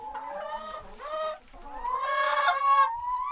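Hens clucking inside a farm shed where they are laying eggs, several birds calling in repeated rising and falling squawks, close and fairly loud with no talk over them.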